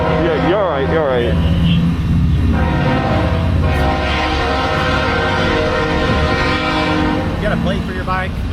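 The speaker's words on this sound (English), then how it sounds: "Just waiting for that train." A train passes while sounding its horn, a sustained tonal blare over heavy rumbling that fills the whole stretch, with people talking over it at a stop by the crossing.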